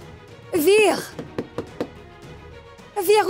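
Several knocks land on a door in a short, uneven series of dull thumps, while a man calls out loudly just before and after them.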